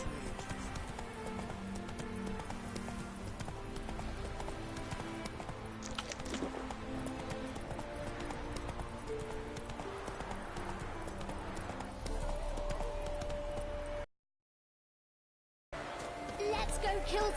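Hooves of Roach, the horse in The Witcher 3, clip-clop at a steady galloping rhythm with game music and ambience, then a brief dropout before the hoofbeats return.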